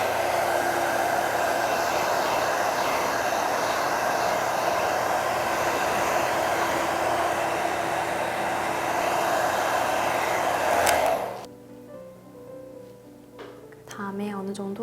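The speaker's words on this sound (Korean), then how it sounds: "드라이기로" A hair dryer blows with a loud, steady whooshing roar for about eleven seconds, then clicks off, leaving a quieter room with faint speech.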